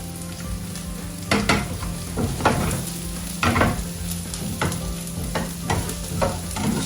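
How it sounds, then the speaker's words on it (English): Garlic goes into a hot pan of browning onions, giving a steady loud sizzle with repeated scraping stirs of a utensil against the pan, and no voices. "now I put the garlic in."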